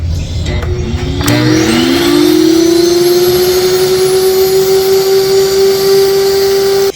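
A Nutrimill Impact electric grain mill grinding whole grains spins up after a second and settles into a loud, steady, vacuum-like whine with a constant high motor tone and a rough grinding hiss underneath.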